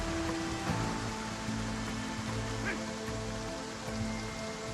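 Rain in the video game Project Zomboid falls as a steady, broad hiss under a low background hum, with faint honk-like tones drifting through and no speech.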